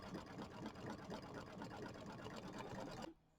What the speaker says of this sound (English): So it's going to do that satin stitching